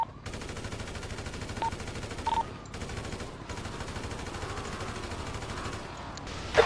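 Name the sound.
gunfire in video game GTA V roleplay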